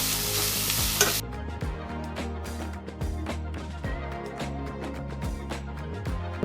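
Onions and tomatoes frying in a couple of spoons of oil for a spicy Malnad-style mutton masala, with a loud continuous sizzle and frequent scraping stirs of a spatula against the pan.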